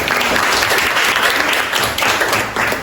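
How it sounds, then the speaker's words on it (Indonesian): A classroom of students claps together in loud, dense, steady applause throughout. "tepuk tangan untuk kita"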